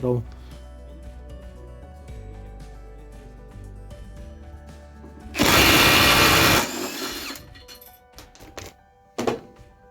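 A Parkside Performance impact wrench tightening a bolt to around 210 Nm fires a loud, dense hammering burst lasting over a second, followed by a shorter second burst, with surrounding workshop clatter.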